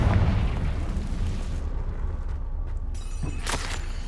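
A Confringo blasting spell explodes in the Hogwarts Legacy video game, a loud booming burst with rumbling tail, followed by a short sharp magical whoosh.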